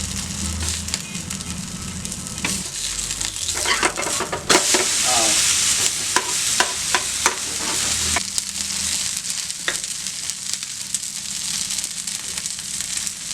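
Egg poured over mutton keema on a dosa frying on a hot pan, with a steady sizzle throughout and occasional scraping and stirring clatter from a spatula; no voices.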